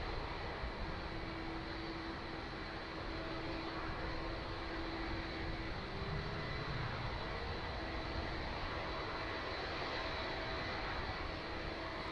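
A Spitfire's piston aircraft engine drones steadily on approach to the runway at East Midlands Airport, a distant continuous hum against constant broadband airport background noise, with no talking.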